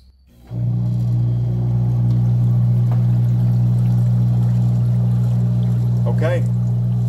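An air pump switches on and runs steadily, pushing air through a bucket of compost tea with a constant low hum and faint bubbling throughout, briefly joined by a short squeaky noise near the end.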